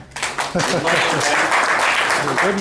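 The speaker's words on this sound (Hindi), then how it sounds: "सर तालियां होनी चाहिए, तालियां." A room of attendees at a business networking meeting applauds, a loud, steady roar of clapping that builds quickly and holds, with voices speaking over it.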